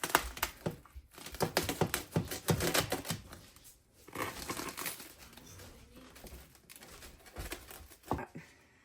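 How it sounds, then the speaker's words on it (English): A knife saws through a French bread pizza, crunching the crisp toasted crust into slices with a quick run of close, crackly strokes, a pause midway, then more cutting and a final sharp crunch. "Let's cut this pizza."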